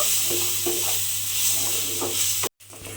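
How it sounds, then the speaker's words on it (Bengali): Washed rice is stirred and fried in oil, making a steady sizzle with soft scraping, then a brief drop to near silence near the end. "এবারে চালটাকে একটু তেলের মধ্যে নেড়ে ভাজা ভাজা মতো করে নেব"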